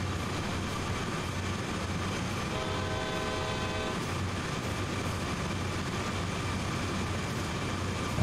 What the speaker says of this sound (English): there is a train passing next to me. 4 locomotives.